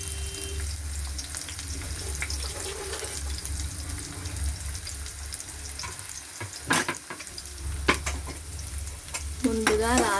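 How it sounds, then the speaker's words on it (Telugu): Finely chopped onions fry in oil for a rajma curry, giving a steady close sizzle with stirring scrapes and a few clinks, and a brief watery splash near the end. "నాకు ఆయిల్ వేసుకున్నాను, కొద్దిగా ఉల్లిగడ్డ, సన్నగా తరిగిన ఉల్లిగడ్డ వేసాను"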